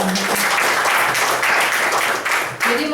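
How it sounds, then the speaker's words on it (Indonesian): An audience claps steadily for Prudential at a company gathering, broad sustained applause for about three seconds with a brief dip near the end and faint voices mixed in. "tepuk tangan buat Prudential"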